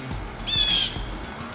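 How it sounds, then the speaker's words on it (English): A blue jay calls once in a garden, a short bright squawk over faint outdoor background with soft low thumps, heard at a moderate distance. "is that blue jay"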